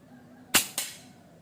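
One suppressed shot from a Neo GNT version 2.0 air rifle: a short, dull crack and then a quick second snap just after, probably the pellet hitting the target, over faint background noise with nobody speaking.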